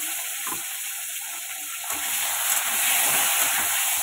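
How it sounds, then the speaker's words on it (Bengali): Potatoes sizzling as they fry in a pan, a steady broadband hiss of hot oil that swells slightly partway through, with no talking over it. "এই যে আলু কটা একটু ভেজে নিচ্ছি"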